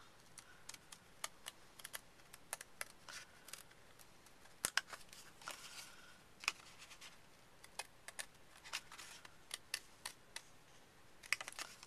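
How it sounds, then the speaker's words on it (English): Scissors cut out the uncut part of a die-cut cardstock layer, heard as faint, sharp, irregular snips and clicks over a quiet room, without talk. "you're going to take a pair of scissors and you're just going to cut out the part that isn't cut"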